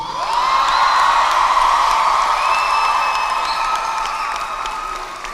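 A graduation audience at a commencement ceremony breaks into loud applause, with cheers and whoops rising over the clapping, then tapering gradually toward the end.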